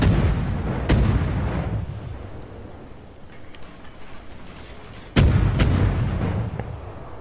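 Naval guns fire high-explosive shells in the World of Warships video game, two heavy booming salvos about four seconds apart, each followed by a fading rumble, with quieter distant gunfire between them.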